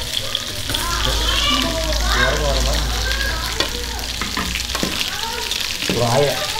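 Chopped vegetables sizzle and crackle steadily in noodle oil in a pan, with stirring scrapes and clatter and some people talking in the background.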